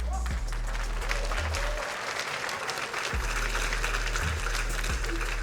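A live audience at a rap battle show claps continuously in a dense, steady wash of applause, with voices faintly mixed in.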